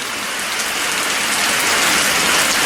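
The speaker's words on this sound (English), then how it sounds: "it's raining its rear end off again" Heavy rain pours down steadily outdoors on a very wet day, a loud, dense, continuous hiss of drops with no break and no voices.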